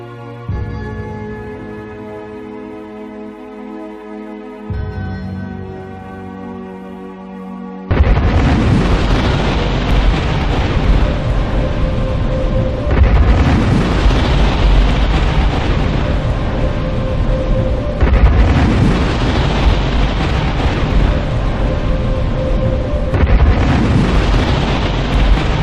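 Huge booming explosion effects depicting cosmic Big Bangs arrive after soft music, then repeat as several long, roaring blasts in steady succession, each swelling and rumbling for a few seconds.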